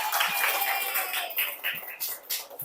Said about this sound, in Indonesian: Tepuk tangan dulu buat kalian semua ya.